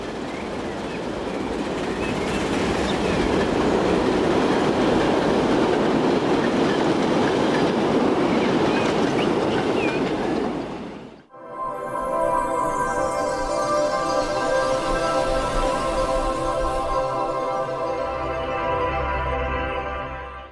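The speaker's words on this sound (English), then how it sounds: "And that is the train that we are going to catch." A semi-fast Pullman train in the simulation game Transport Fever 2 rumbles past, loud and steady with rail clatter. A brief dip follows, then a lighter rolling sound with a sustained metallic whine runs on to the end, with no talk.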